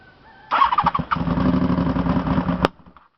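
A rebuilt Honda VFR750 motorcycle engine cold-starts after a short crank, catching abruptly and revving roughly for about two seconds, ending in a sharp pop before cutting back to quiet; close and loud, no talking.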